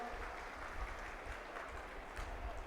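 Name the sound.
audience applause welcoming the saints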